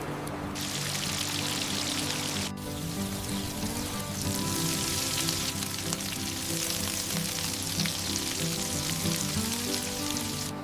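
Steak searing over an open campfire outdoors, giving a continuous bright hiss and crackle that dips briefly near the start and then holds steady.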